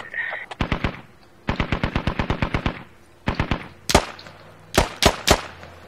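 Machine gun fire in the Squad military shooter game, several long rapid bursts of evenly spaced shots, then heavier single booming shots near the end, loud and close with no talk.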